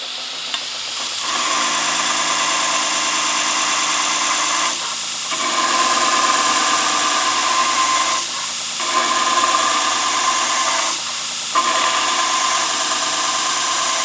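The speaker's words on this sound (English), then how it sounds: "This belt grinder makes pretty quick work out of this grinding tool steel." A belt grinder with a coarse belt grinds a tool steel cutter in a steady, loud, hissing whine. The grind breaks off briefly three times and then resumes, and no one speaks over it.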